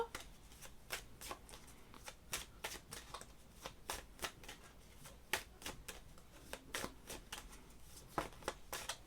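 Tarot cards shuffled by hand in quick repeated riffles, producing a close, crisp flutter of rapid card clicks over several seconds.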